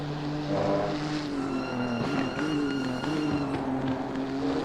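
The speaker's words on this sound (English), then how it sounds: "Over-revving his vehicle." Nissan race car engine over-revving in Assetto Corsa Competizione at Suzuka, a loud sustained high-pitched engine whine with shifting pitch and brief changes as revs rise and settle, continuous throughout.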